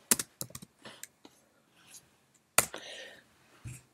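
Typing a command on a computer keyboard, a handful of sharp close key clicks in short clusters separated by quiet gaps, with one louder keystroke near the end.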